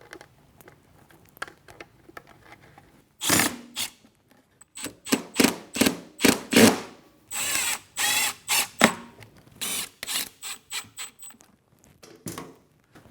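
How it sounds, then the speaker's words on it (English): Speaker bracket screws being driven into a rear roll-bar speaker pod on a 2021 Ford Bronco, a series of short loud bursts like a power driver or ratchet spinning, close up, with quiet handling noise before and between them. "screw your top screw in, screw your second one in, and then the other two remaining"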